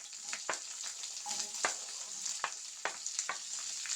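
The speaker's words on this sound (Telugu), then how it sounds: "కరివేపాకు కూడా వేగిన తర్వాత ఉల్లిపాయ ముక్కలు అయితే వేసుకోవాలండి." Curry leaves and onion pieces fry in hot tempering oil for an egg fry, a steady bright sizzle with sharp crackling pops scattered throughout, close and continuous with no talking.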